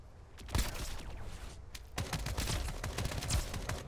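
A flaming AK rifle fires in the video game Escape from Duckov, rapid automatic bursts cracking in dense clusters, loud and close, with a brief pause near the middle before firing resumes steadily.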